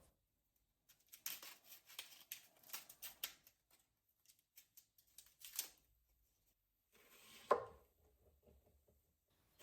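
A knife slicing through a red onion on a cutting board for a Greek salad, a series of light, crisp cuts in an irregular rhythm, close and fairly quiet, ending with a sharper knock.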